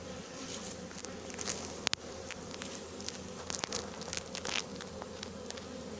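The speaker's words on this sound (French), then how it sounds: "Ouais, c'est un bel essaim celui-là." A large honeybee swarm of fairly dark bees, being hived at Noisy-sur-École, hums in a dense, continuous buzz with individual bees darting close past now and then.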